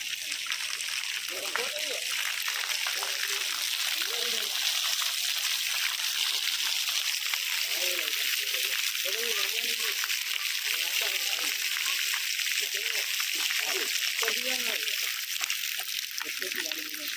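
Water rushes and splashes steadily in the Jampanna stream at Medaram, a continuous fairly loud wash running the whole time while people talk over it.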